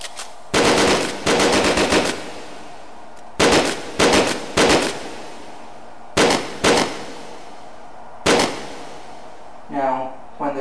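Fully automatic fire from a gun in the VR shooting game H3VR, loud and near, heard as several long sustained bursts separated by short pauses, with a final brief burst near the end.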